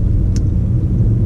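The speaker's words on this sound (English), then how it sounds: "gonna go on a drive just around the neighborhood" Nissan Sentra driving around a neighborhood with a suspected front-end fault in the ball joints or wheel bearings, a steady loud low cabin rumble of engine and road noise with one brief faint click.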